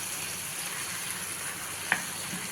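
Mutton pieces sizzle in a hot pan with a steady, close, even frying hiss throughout, broken once by a single brief clink.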